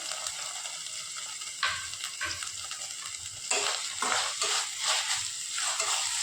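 Ginger garlic paste frying with onions in a pan for crab masala: a soft continuous sizzle with several sharper scrapes and stirs of a spoon, fairly quiet and close, with no talking.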